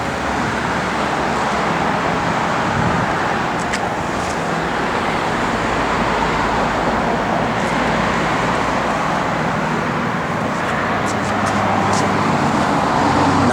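A 1965 Chevrolet Chevelle 300 with a four-speed runs nearby with a steady, loud engine rumble and a broad wash of noise throughout, with no talk.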